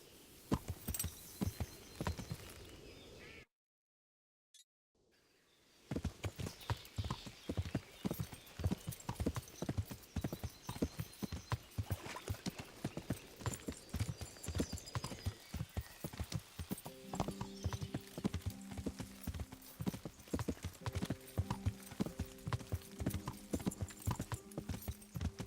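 A horse in the medieval video game Kingdom Come Deliverance trots along with steady clip-clopping hooves, continuous and close, briefly cutting to silence before resuming, with a faint rhythmic tone joining later.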